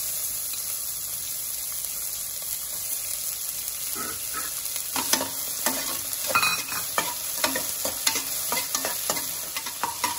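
Finely chopped onions fry in a pan with cinnamon, cloves and cardamom for goat leg paya. A soft sizzle runs steadily, then repeated close scraping and clattering of stirring begins midway.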